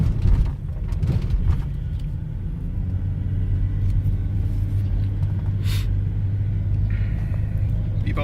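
A 2003 Volvo XC90 T6 driving in third gear, its engine a steady low droning rumble heard from inside the cabin, loud and continuous with a few faint knocks early on.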